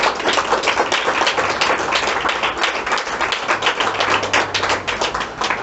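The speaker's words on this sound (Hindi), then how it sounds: "क्या हम यीशु के लिए जोरदार तालियां बजाएंगे?" A church congregation claps loudly and continuously, dense rapid hand claps filling the space with no talking.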